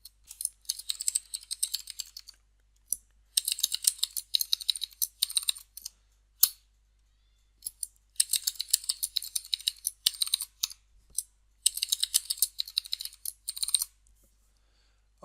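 A computer keyboard clatters quietly in bursts of rapid keystrokes as a username and password are typed, with brief silent pauses between the runs of typing.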